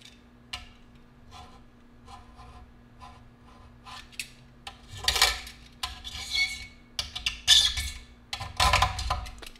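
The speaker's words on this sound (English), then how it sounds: "Obviously, the knife leaves a nice, good mark to it." A knife scrapes and scratches across the top coat of a carbon fiber bike frame in short, irregular rasping strokes, close and fairly quiet, growing louder toward the end.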